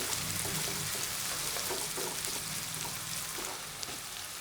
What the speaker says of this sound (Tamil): பெரிய வெங்காயத்தை சேர்த்து நல்லா மிக்ஸ் பண்ணி விடுறேன் எண்ணெயில் வெங்காயம் அப்படியே நல்லா வதங்கட்டேன்